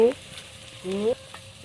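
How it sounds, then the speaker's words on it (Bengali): Garlic dropped into a hot pan sizzles loudly in two short bursts while chicken biryani cooks village-style, with a brief stir between. "রসুনটা দিয়ে দিচ্ছি।"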